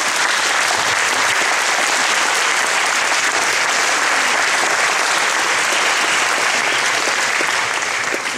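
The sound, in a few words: audience applause for Jean-Pierre Briard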